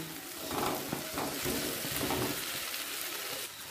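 Fried potatoes being stirred and cooked down with spice masala in a pan over medium-high flame for aloo dum, a steady sizzle with soft scraping strokes of a spatula, moderately loud and continuous.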